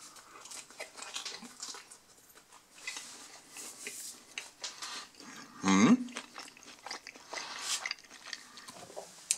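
Someone eating salami pizza with tomato sauce and cheese, giving close, soft bites and chewing with moist crunching, including one louder bite midway, in otherwise quiet surroundings.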